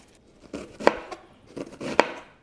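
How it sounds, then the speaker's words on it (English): Knife chopping green onion tops and bottoms and half a yellow onion on a cutting board, with two distinct sharp chops standing out among softer cuts, close and fairly quiet with no voice. "I just have a few green onions I'm going to use. I'm going to chop up the tops and bottoms."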